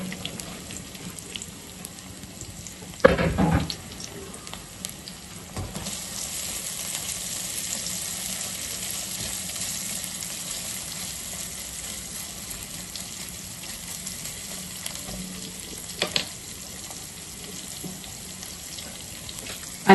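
Vegetables frying in hot oil for veg hakka noodles, a steady hissing sizzle running throughout, with a sharp burst near the start as food is added and occasional clinks from a utensil.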